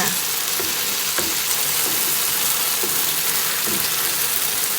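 Pad thai noodles stir-fried in a pan give a steady, loud sizzle and crackle with faint scraping stirs, continuous throughout with no talking.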